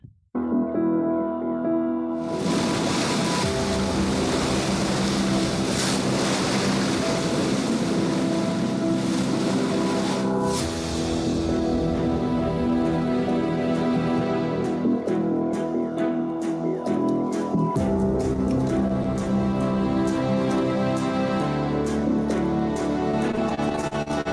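A ship at sea in wavy conditions, a steady engine drone with a constant rushing wash of water and wind, loud and continuous throughout with no talking.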